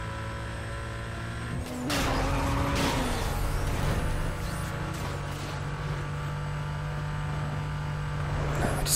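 A Porsche in Need for Speed Most Wanted drives at steady speed with a constant engine drone, a shift around the second mark and road noise holding loud throughout, no talk.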